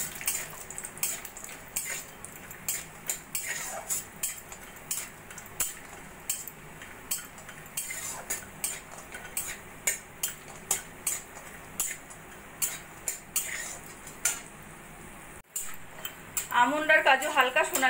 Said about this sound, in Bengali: দিয়ে দেব আমি প্রথমে আমন্ড আর কাজু, হালকা সোনালি করে আমি ভেজে নেব।